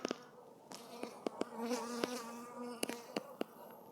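Carniolan honeybees fly around a beehive on a late-January day, making a steady close buzz with rising and falling drones and sharp passes as single bees zip near.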